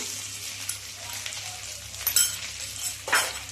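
Ginger garlic paste and a handful of mint frying in a pan for chicken pulao, a steady soft sizzle with a couple of sharper crackling bursts as it's stirred, close by.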